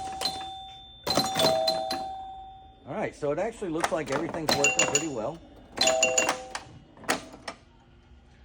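Bally Bow and Arrow pinball machine bells and chimes ring out in bursts with ringing tones and rattling, while someone talks over them.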